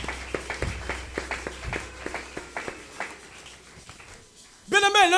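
Church congregation clapping in praise of God, a run of sharp, roughly rhythmic claps with murmuring under them, dying down before a voice rises at the end.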